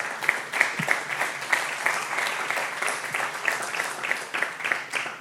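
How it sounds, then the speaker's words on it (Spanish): A church congregation applauds during a Spanish-language sermon, a steady, moderately loud wash of clapping from many hands lasting throughout, with faint voices mixed in. "Dale un aplauso"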